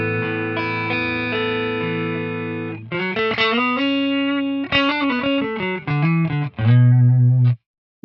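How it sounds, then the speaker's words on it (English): Electric guitar notes and chords played through a Quad Cortex with a short doubling delay of up to 25 milliseconds, giving a thick slapback-like echo; loud, several phrases with brief pauses. "it almost sounds like a reverb or a slapback kind of effect"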